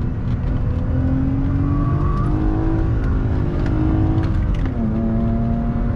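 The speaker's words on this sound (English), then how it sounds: "It's amazing, guys, to drive BMW that road. A nice turn. Let's try with second gear." A BMW E36 320i coupe pulls hard in second gear on a curvy track road, its engine note climbing and falling steadily with wind noise in a continuous, loud drone.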